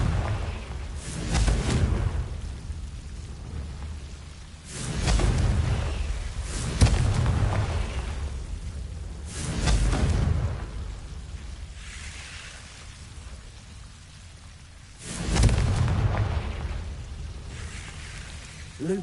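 Confringo spell explosions in the Hogwarts Legacy video game, four heavy booming blasts spaced a few seconds apart, each with a low rumbling tail fading into quieter background between them.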